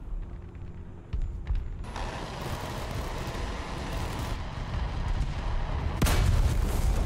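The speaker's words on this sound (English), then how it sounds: "Someone's trying to shoot me." Gunfire aimed at a tank in War Thunder, with a continuous rumbling barrage of heavy shots and impacts over engine noise, growing denser and ending in a sharp loud blast.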